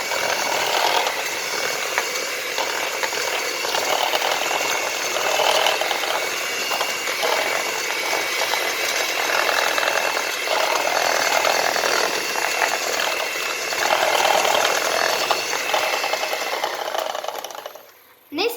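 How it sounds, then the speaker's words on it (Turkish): Dalgona coffee is whipped in a bowl with a steady, close buzzing whir that runs unbroken for most of the stretch, then cuts off abruptly near the end. "Şimdi karıştırma aşamasını birazcık daha göstereceğim."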